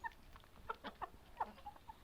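Soft, short clucks from a rooster, a few scattered calls at low volume over a quiet background.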